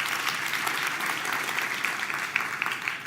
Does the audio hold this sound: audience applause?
yes